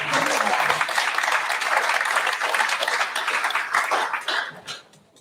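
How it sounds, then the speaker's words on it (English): Applause from a crowd at a funeral service swells to a dense clapping, holds steady, then tapers off and fades toward the end. "Give him a round of applause."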